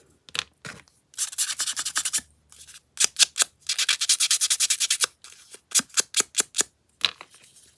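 Sandpaper rubbed against paper in a handmade journal, in quick rhythmic scratchy strokes that come in close bursts separated by short pauses, with no voices.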